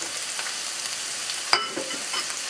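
Onions and ginger fry in a hot pan with a steady close sizzle, stirred once with a short sharp scrape partway through.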